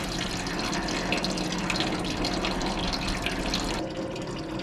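Maple sap pours steadily into a filtered tank, a continuous splashing rush of liquid close by that runs for several seconds before tapering off near the end.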